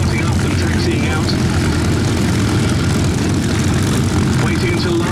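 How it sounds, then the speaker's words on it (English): Sixteen Spitfires and four Hurricanes at an airshow start their propeller engines and taxi, a loud, dense, continuous engine roar, with a voice talking over it. "The 16 Spitfires and 4 Hurricanes, all in the process of starting up and taxiing out."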